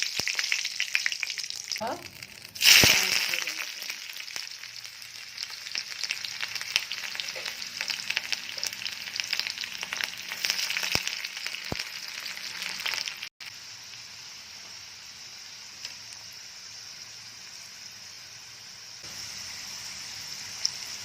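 Bay leaves and dried red chilies crackle and sizzle in hot oil for a chickpea dish, a loud burst of spitting when they go in and then a steady close frying hiss.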